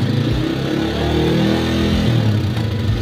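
An RC200cc motorcycle with an electrical charging fault, its engine revving up and holding at higher speed for a few seconds, loud and close with a steady droning tone and no speech over it.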